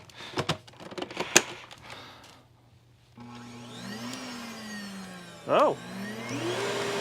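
Simplicity S36 upright vacuum cleaner with a new hose, running after repair: a few knocks and clicks, then the motor starts and drones steadily and close, with a brief louder surge partway through.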